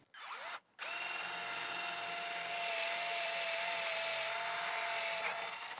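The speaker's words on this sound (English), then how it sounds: "So let me go ahead and drill." A power drill whines steadily as it bores through hardboard, a brief start, a short pause, then one long continuous high-pitched run up close.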